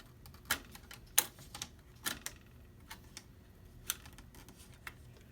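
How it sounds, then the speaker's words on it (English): A ribbon cable latch on the T-CON board of a Samsung LN52A650AT1F 52-inch TV is clicked down, giving several sharp, close plastic clicks and taps spaced irregularly over quiet background. "you put your fingernail in and slide it down, click it down I should say, and these ribbons pull out"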